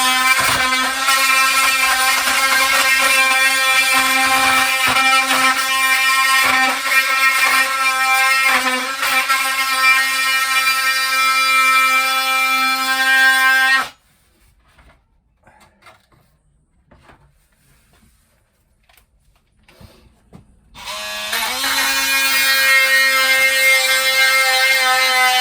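An oscillating multi-tool runs loud and steady at close range during narrowboat fit-out work, its high buzzing whine cutting out for several seconds midway before starting up again.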